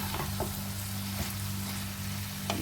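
Dried lotia fish with vegetables and whole garlic fries in a pan as green chillies are added, a steady close sizzle with a few faint clicks and stirs and no voices.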